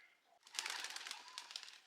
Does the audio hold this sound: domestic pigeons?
yes